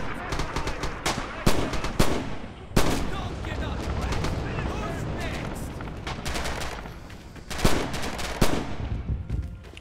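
Battlefield combat in Red Orchestra 2 on the Bridges of Druzhina map: dense rapid gunfire and heavy booming artillery blasts keep cutting through a constant roar, loud and close, with bursts of shots clustering in sharp repeated cracks.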